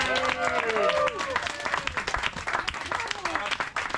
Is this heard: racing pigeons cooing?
no